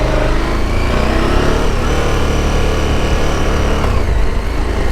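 A 2023 KTM 1290 Super Adventure motorcycle rides country roads, its engine a loud, steady drone with a wind-rushing hiss, holding a constant pitch and building slightly in revs toward the end; no voices.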